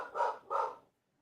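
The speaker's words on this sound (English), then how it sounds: "That's my dog barking" A dog lets out two quick barks close by, each a short burst with a brief gap between, then falls silent.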